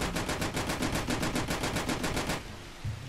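Rapid automatic gunfire from a TT (Tula Tokarev) pistol in a 1990s-themed shooter video game, a loud steady burst of about a dozen evenly spaced shots over two seconds, then a quieter tail with one faint thud.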